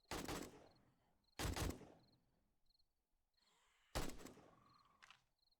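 Gunfire rings out during a horde-night fight in the video game 7 Days to Die: three loud, sharp shots spaced a couple of seconds apart, each trailing off into a short echo, with faint clicks and a whoosh between them.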